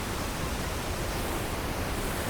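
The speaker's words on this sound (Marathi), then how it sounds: "इकडे बघा वॉटरफॉल इथे छोटासा एक आहे" A small waterfall at Kalmandavi near Jawhar gives off a steady broadband rush of falling water, continuous and fairly close, with no voices.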